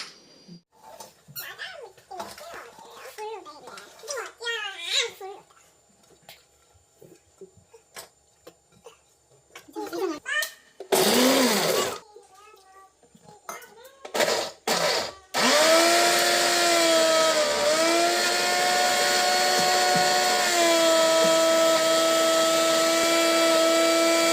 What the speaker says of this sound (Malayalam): അപ്പോൾ ഇനി വെളുത്തുള്ളി, വേപ്പില, പച്ചമുളക്, പച്ചക്കുരുമുളക്, ചപ്പ്, പുതിന, ഇഞ്ചി ഇവയെല്ലാം മിക്സിയിലിട്ട് ബ്ലെൻഡ് ചെയ്യാം.